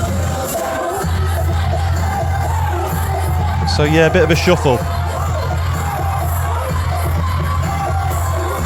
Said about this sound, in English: Crowd seemed to enjoy that as it built.